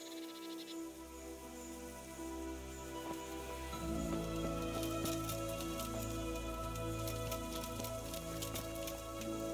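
Rain falls steadily in the medieval game Kingdom Come: Deliverance, a soft continuous patter on surfaces with scattered droplet ticks, joined by a low ambient hum and faint night insects, no voices.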